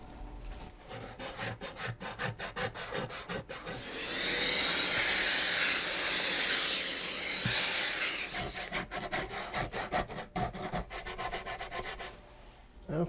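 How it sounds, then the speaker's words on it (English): 150–180 grit sandpaper is rubbed by hand across a wooden guitar top in quick, rhythmic strokes that merge into a longer continuous scrub midway, then return to short strokes, close and clear. "150 or 180 grit sandpaper. Be sure not to sand any of these sides, so don't drag your sandpaper over."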